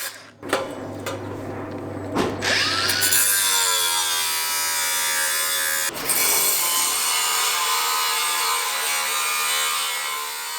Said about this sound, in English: I'm going to do the angled cut so that fits in snugly to the